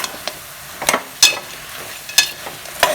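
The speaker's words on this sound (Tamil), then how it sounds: "இப்போ கொஞ்சம் கருவேப்பிலை போட்டுக்கலாம் அதையும் போட்டு நல்லா வணக்கிக்கலாம்" Curry leaves and duck meat sautéed in oil, a few distinct spatula scrapes and knocks against the pan spaced about a second apart over a soft frying hiss, close and fairly loud.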